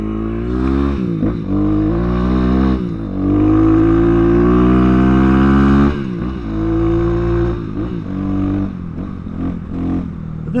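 A Kayo K6-EFI fuel-injected 250 four-stroke dirt bike rides a trail. Its single-cylinder engine drones loud and close, climbing in pitch through long pulls and briefly dropping off between gear shifts and throttle changes.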